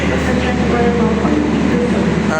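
A Jaka Tingkir passenger train stands at a station platform, its engine or air-conditioning hum droning low and steady with faint mechanical whines rising over it, close and continuous.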